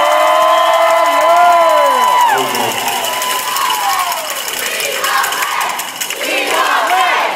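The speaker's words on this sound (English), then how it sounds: "Y'all make some noise for D-Wade so we can hear you back in Chicago." A large crowd at a Miami Heat rally in downtown Miami roars and cheers loudly and continuously, with whoops and shouts rising over a dense wall of noise.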